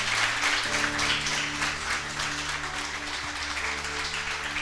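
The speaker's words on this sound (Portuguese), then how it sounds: "Uma salva de palmas para Jesus pela vida desses meninos aqui." A church congregation applauds during a worship service, a steady wash of many hands clapping at a distance, with sustained tonal music or organ drones running underneath throughout.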